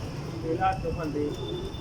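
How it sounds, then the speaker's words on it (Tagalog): Soft pigeon cooing, a few low murmuring coos, with a voice talking over a steady outdoor hum. "Ay mga kalapati guys."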